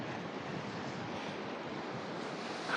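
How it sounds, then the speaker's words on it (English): Strong wind sweeps a misty seafront at the edge of a peninsula in Torrevieja on the Costa Blanca. It makes a steady, loud, broadband roar that never lets up, with no voices. "Now it gets very windy around this corner."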